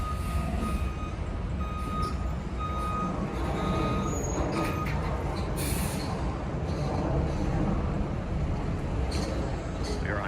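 A truck's reversing alarm beeps in a steady repeating pattern outside a football stadium, mid-distance over constant traffic and site rumble, with people talking nearby.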